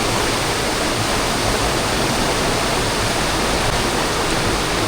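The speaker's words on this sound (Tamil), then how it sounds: "ஓ மை காட், என் வாழ்க்கையில இவ்வளவு சூப்பரான ஃபால்ஸ் நான் பார்த்ததே இல்லை." Keralamkundu waterfall in Malappuram roars with a steady, loud rush of falling water, a dense unbroken wash of noise close by with no pauses.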